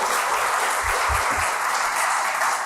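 A lecture hall audience claps warmly for Bhagyeshbhai Jha after his introduction: dense, steady applause that holds at an even level from start to finish with no voices.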